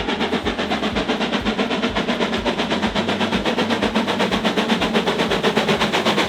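A BR Standard 4 Tank steam locomotive, number 80136, runs on the North Yorkshire Moors Railway with a steady, fast rhythmic beat of loud repeating chuffs and clanks that carry on evenly throughout, close and prominent, with no talking.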